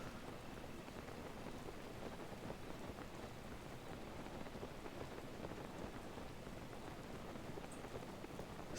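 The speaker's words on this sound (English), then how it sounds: "It is still raining" Steady rainfall in the open world of the video game Zelda Breath of the Wild, a soft continuous hiss of falling drops with no pauses, quiet and even throughout, without any speech.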